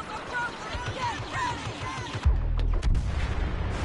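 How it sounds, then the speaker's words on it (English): Star Wars Battlefront gameplay on the Hoth map brings a burst of heavy booming explosions with deep rumble in the second half, following laser blasts and game effects. A player's voice is heard briefly over the action. "Ooh, a lot of explosions."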